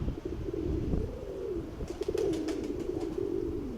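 Pigeons coo in a loft full of hens, low rolling calls repeating steadily up close, with a few faint higher chirps and light rustling near the end.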